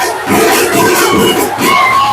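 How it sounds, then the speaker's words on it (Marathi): A dense, jostling crowd roars and shouts at a Ganesh arrival procession in Mumbai, a loud, close, churning wall of voices with cheers and cries surging in waves. "खूप गर्दी, खूप धक्काबुक्की होते."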